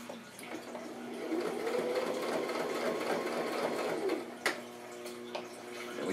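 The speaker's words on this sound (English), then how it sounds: "So I can sew a little bit and then back stitch." A sewing machine stitching a handbag, with a steady close whirr of running stitches, then a short back stitch and a few separate mechanical clicks toward the end.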